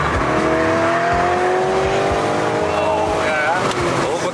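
A car's engine revs loudly and continuously close by, its pitch rising and sliding over a few seconds, with a voice speaking briefly over it.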